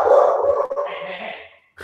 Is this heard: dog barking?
yes